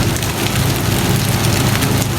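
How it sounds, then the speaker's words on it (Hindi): Heavy rain pours down in a dense, loud, steady roar of broadband hiss that fills the whole stretch without a break or any voices. "बहुत ज़बरदस्त बारिश हो रही है।"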